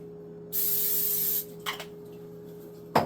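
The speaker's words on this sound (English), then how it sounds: "And spraying the pan, wiping down the pan." Cooking spray hisses onto a kitchen pan in one steady burst of a little under a second, followed by soft rubbing and wiping sounds and a sharp knock at the end.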